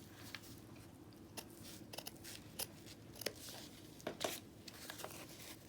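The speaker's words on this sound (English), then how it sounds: "so you cut all the way around" Scissors cut around a fabric stitch sampler, giving a series of close, quiet snips and crisp clicks at an irregular rhythm over faint crinkling of the material, with no one talking.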